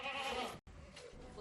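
Farm goats kept by a couple at dawn, bleating in a short, fairly faint wavering call broken by a brief gap, with no speech over it.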